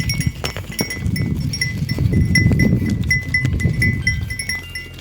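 Sheep shuffle and bleat in a pen, with hooves and a faint clinking bell over a steady close rustle.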